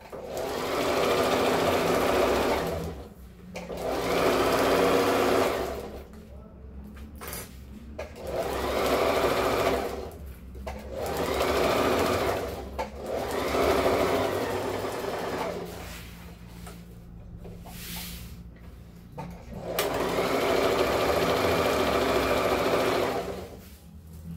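A sewing machine stitches a waterproof thermal lunch bag, running in steady, loud whirring bursts of a few seconds each, separated by short pauses, with faint talk at times.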